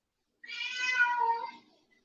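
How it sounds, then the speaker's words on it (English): An old, senile, blind 15-year-old cat yowls at a wall indoors, letting out a single drawn-out, wavering cry of about a second and a half, alone against silence. "I have an old senile 15-year-old blind cat yelling at a wall right now"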